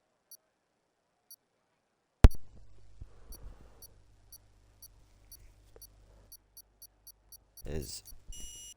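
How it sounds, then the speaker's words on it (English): A racing game's start sequence for a round in Bahrain gives small, sharp beeps at a steady pace of about one per second, then a quicker run near the end, with a low hum and a voice talking underneath. "There's the beep."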